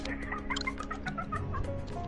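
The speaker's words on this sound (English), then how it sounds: "hang up with the freaking birds. I hear them chirping." Birds clucking and chirping in a rapid, busy series of short calls, steady and fairly close, with a low background hum and no talk.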